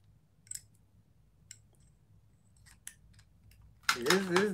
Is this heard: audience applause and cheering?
no